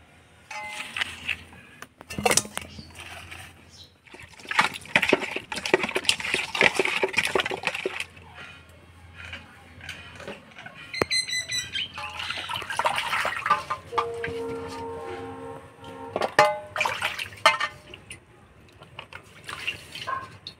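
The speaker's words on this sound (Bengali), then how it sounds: "মাছটা ভালো করে ধুয়ে নিলাম" Cut taki fish being washed in water by hand, with close splashing, sloshing and dripping in uneven bursts, plus occasional clinks of a pot or bowl and no talking.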